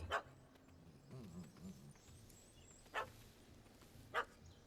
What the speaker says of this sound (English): That gammy puss ran up a tree to escape that puppy.